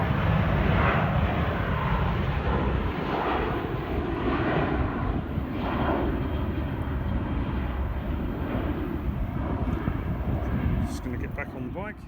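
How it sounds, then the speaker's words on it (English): Airliner taking off from Luton Airport, a loud, steady broadband engine roar that fills the whole stretch and fades slightly near the end, heard from nearby outdoors. "Plane taking off from Luton Airport."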